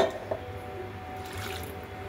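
Water trickles steadily into ghavan batter in a bowl, a faint, quiet pour with a soft liquid splash at the start, alone without talk.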